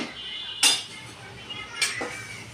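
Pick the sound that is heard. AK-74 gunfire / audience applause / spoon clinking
spoon clinking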